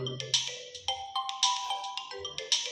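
A Samsung Galaxy A10s plays its ringtone, a short bright melody of plucked electronic notes in a bouncy rhythm, heard alone and close.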